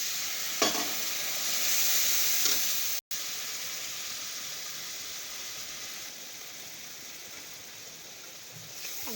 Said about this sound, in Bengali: হলুদ গুঁড়ো, গরম মশলা গুঁড়ো দিয়ে ভালো করে মশলাটা কষিয়ে নেব।